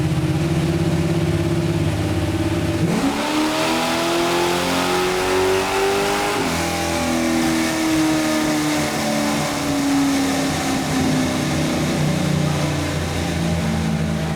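Engine of a 1969 Camaro on a dyno in Ottawa, idling low and steady, then revving hard from about three seconds with a rising, sweeping pitch. It climbs to a peak, then winds back down while staying loud throughout.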